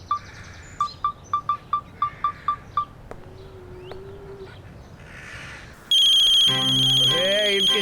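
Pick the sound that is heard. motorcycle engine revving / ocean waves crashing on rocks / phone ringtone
phone ringtone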